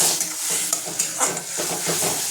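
Ridge gourd mash with turmeric and sugar is sautéed in a pan, a steady bright sizzle with soft scraping stirs and occasional utensil taps throughout.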